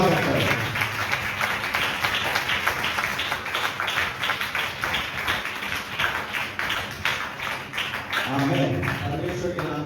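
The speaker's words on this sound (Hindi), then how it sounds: "अगर आप तैयार हैं तो ताली बजाकर परमेश्वर के वचन का स्वागत करें।" A church congregation claps in a fast, steady rhythm to welcome the word of God during a Hindi sermon, a continuous run of hand claps that thins out near the end as a voice comes in.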